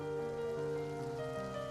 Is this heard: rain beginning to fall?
yes